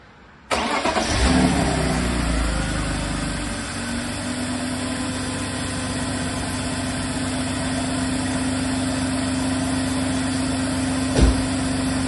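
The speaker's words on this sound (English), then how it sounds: "We're going to give her a start and see how she runs. First start with the new injectors." A BMW E46 with newly installed fuel injectors cranks, fires up abruptly and settles into a steady, close idle, with a brief blip of throttle near the end.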